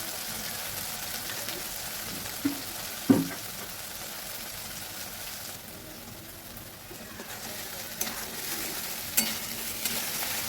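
Tomato paste with ginger and green chili sautés in hot oil, giving a steady, soft sizzle throughout, broken by a few sharper knocks and scrapes as the mixture is stirred.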